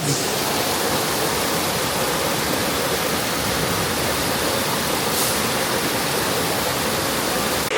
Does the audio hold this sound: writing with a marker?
no